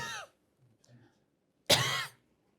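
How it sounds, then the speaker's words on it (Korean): A lecturer gives a single deliberate, sharp cough, loud and close, after a brief faint throat sound, with silence on either side. "이런 기침"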